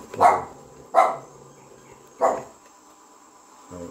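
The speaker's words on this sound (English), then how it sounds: "My dog's barking at me because I have my mask on." A dog gives three sharp barks at uneven intervals, with a faint fourth at the end and a soft insect chirr underneath.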